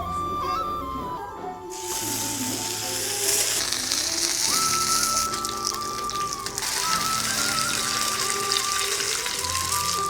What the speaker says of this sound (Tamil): கொஞ்சம் நிறையவே எண்ணெய் ஊற்றிக்கோங்க.